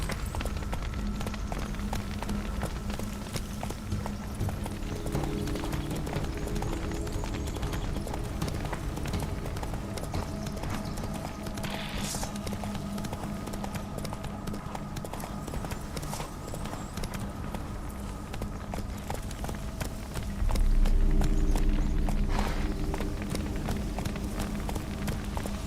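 Roach the horse gallops in The Witcher 3 on PS4, hooves pounding in a fast, steady rhythmic clip-clop with a brief louder surge near the end.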